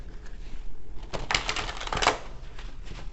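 A deck of tarot cards riffled and shuffled in quick rustling bursts, with a couple of louder clattering flurries, close up and no talking.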